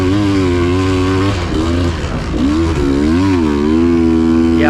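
A dirt bike labours up a steep hill during a woodland hare scramble race, its engine droning loud and close, revving unevenly and bogging down as it strains in too high a gear.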